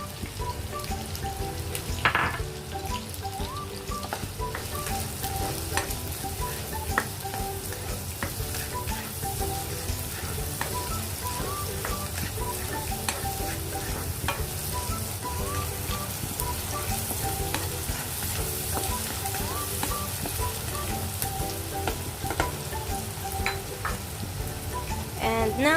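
Onions frying in a hot pan, a steady dense sizzle with stirring scrapes and small pops running throughout, loud and close with no talking.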